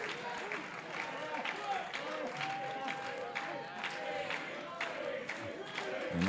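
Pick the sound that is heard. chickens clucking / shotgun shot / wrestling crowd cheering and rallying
wrestling crowd cheering and rallying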